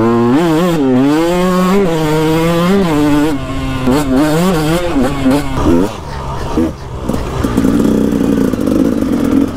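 KTM 125 enduro two-stroke motorcycle engine with slightly rich carburetion, running near the end of break-in: a loud, close, buzzing tone that rises and dips with repeated revs, then settles into a rougher rattling idle.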